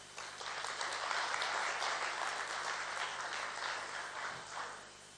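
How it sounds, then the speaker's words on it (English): An audience applauds a group of startup founders at an awards gala, the clapping sustained and full for several seconds, moderately distant and with no speech over it. "I'm already asking a round of applause to all of these founders as well"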